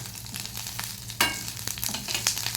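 Urad dal, chana dal, curry leaves and ginger frying in hot oil in a pan, with a steady close sizzle and crackle, a sharp burst of spitting midway and light stirring scrapes, no voices.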